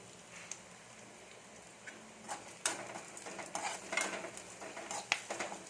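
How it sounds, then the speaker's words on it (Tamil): Crushed ginger sautés in a pan, giving a soft sizzle under scattered scraping and clinking stirs that grow busier midway, close and fairly quiet. "இஞ்சி போட்டுக்கோங்க அது நல்லா வதங்கிடுச்சு"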